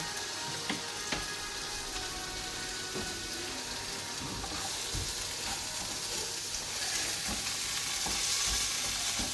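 Onion, tomato and dried chili fry in a pan with a steady, close sizzle and crackle, and a few sharp stirring scrapes break through now and then.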